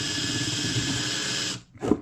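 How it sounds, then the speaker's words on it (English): A power drill bores a small hole while making a laptop stand, a steady whirring hum that cuts off, followed by a brief clunk. "Just get a drill, a gentle drill hole"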